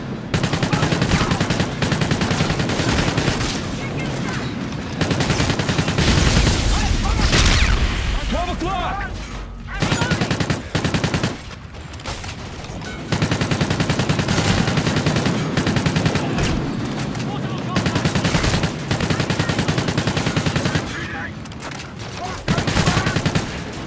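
Constant gunfire and explosions in Call of Duty: Infinite Warfare, loud overlapping bursts and automatic fire that keep going for the whole stretch with only short gaps, and a voice talking underneath.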